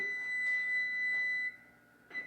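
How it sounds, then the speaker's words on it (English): A kitchen timer gives a thin, steady electronic beep for about a second and a half, then cuts off, followed by a short rustle. "This buzzer's about to go off."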